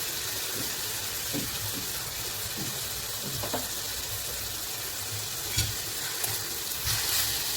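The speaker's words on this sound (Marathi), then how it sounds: "आता छान मुगाची डाळ आपण 10 मिनिटं भिजू घातली होती ती टाकूया" Soaked moong dal goes into a hot pan and is stirred, giving a steady close sizzle broken by occasional soft scraping knocks of the spoon, with no speech.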